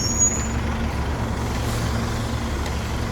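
A New York fire truck idling near a bus, heard from on board: a steady loud engine rumble with a brief high hiss at the start, continuous throughout with no talk.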